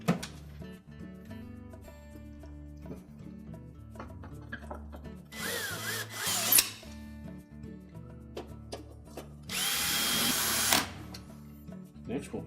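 Power drill driving screws into a Frigidaire oven door panel, with two loud whirring bursts of a few seconds each, set apart by quieter handling noise and musical background.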